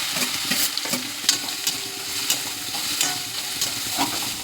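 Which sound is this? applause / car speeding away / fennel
fennel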